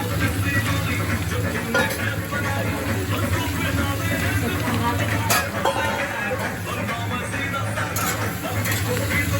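Onions frying in a pan for a Holi home-cooked mutton dish, a steady close sizzle with stirring scrapes, under talking voices.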